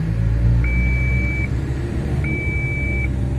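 Komatsu 785-7 dump truck engine held at raised RPM during a parking brake test, a steady heavy rumble throughout with two long electronic warning beeps sounding one after another.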